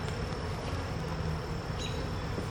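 Honeybees swarm around an open hive during a Demaree swarm-control inspection, a steady close, dense buzz filling the whole moment with no talk.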